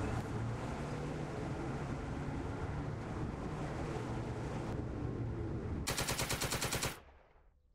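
Matilda II tank machine gun firing in the Second Front war game, a dense rattling burst under a constant rumbling background, then a sharper stuttering volley near the end before it cuts off.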